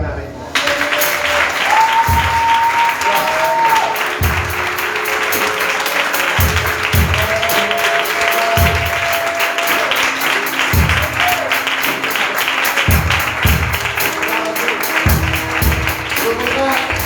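A church congregation applauds at a morning service after a sermon on the local church, a steady broad clatter of clapping lasting throughout, with a voice and organ-like tones sounding over it.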